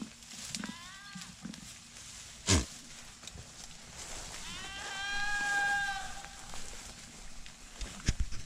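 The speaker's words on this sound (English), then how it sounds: "And this is her other daughter, Bonita, the pretty black goat there" Goats on a farm in summertime give several wavering bleats in quick succession at moderate distance, with faint rustling and a sharp knock between calls in an otherwise quiet outdoor setting.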